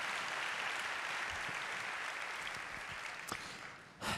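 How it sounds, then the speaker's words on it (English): Steady audience applause fills a conference hall at the GitHub Universe 2016 event, a dense continuous clapping that holds for about four seconds before tapering and dropping off near the end. "Let's give him another round of applause."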